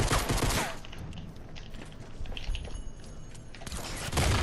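Video game gunfire crackles in a dense, loud fusillade of rapid shots, with bursts bunched at the start and end and steadier firing between, heard alone without talk.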